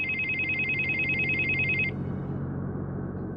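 A telephone bell rings in a rapid trilling burst for about two seconds, then stops, leaving a low background hum; close and clear, no talking.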